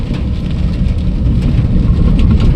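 Heavy monsoon rain in Sawantwadi pours steadily with a dense low rumble, loud and continuous, like a downpour drumming on a roof or vehicle.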